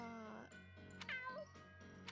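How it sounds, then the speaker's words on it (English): A cat in the Fire Emblem Warriors video game meows a few times close by, short drawn-out mews with rising and falling pitch in quick succession. "Well, well, a cat."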